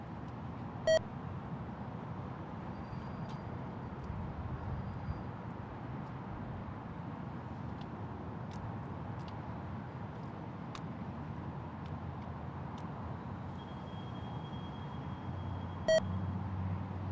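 Two short electronic beeps from an air traffic control radio, one near the start and one near the end, over steady outdoor background noise while plane spotting at San Jose International Airport.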